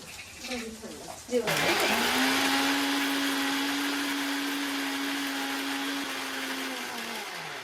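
A kitchen mixer grinder blends ginger, garlic and raw cumin into paste, starting abruptly after a moment of voices and settling into a loud, steady whirring whine that holds to the end.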